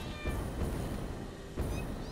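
A cat meows inside the video game Satisfactory, with two short meow-like calls standing out over a steady, dense game soundscape.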